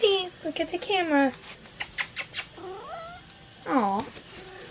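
A domestic cat meows repeatedly, several drawn-out, wavering cries close to the microphone, with a person speaking softly between them.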